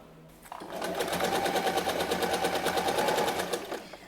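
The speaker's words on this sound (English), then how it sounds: "you can take this straight to the sewing machine without using fabric clips. and top stitch all the way around." A sewing machine top stitches around a tote bag in one continuous run of rapid, evenly pulsing needle strokes, close and steady for about three seconds before stopping.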